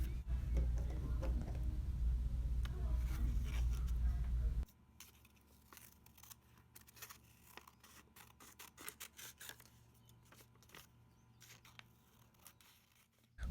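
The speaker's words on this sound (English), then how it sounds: "we're going to begin cutting along those lines" Scissors snip along printed lines on paper for a DIY craft, a run of quiet, close crisp cuts in an uneven rhythm that follows a few seconds of louder background noise.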